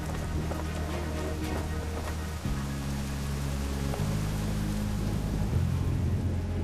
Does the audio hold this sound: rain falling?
yes